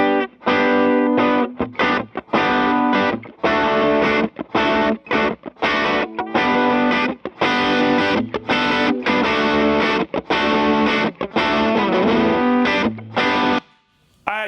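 Overdriven electric guitar plays loud chugging chords and riffs with brief gaps between phrases, the crunchy tone steady and up close, fading out at the end.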